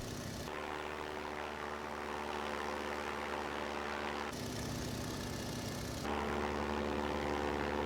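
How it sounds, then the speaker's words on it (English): Charles Lindbergh's single-engine propeller aircraft gives off a steady, monotonous drone, a constant rumbling engine hum whose tone shifts slightly in a few places. "the drone of the engine and the monotony of the waves dull his consciousness"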